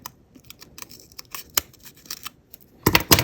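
Small thinning shears snip repeatedly through paper while trimming a stamp-style edge for a paper bag journal tag, giving crisp close clicks in an uneven rhythm that bunch into a rapid burst at the end.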